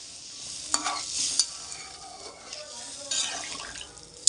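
Water is poured into a pan of frying rui fish curry, giving a broad hiss and sizzle with stirring and a few sharp clinks, moderately close and continuous.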